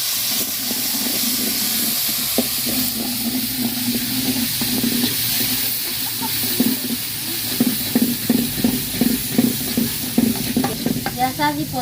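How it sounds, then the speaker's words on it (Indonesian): Banana blossom stir-fried in a pan, with a steady close sizzle and hiss. Stirring and scraping strokes grow into a regular rhythmic series toward the end. "Kita mau lanjut masak numis jantung pisangnya ya."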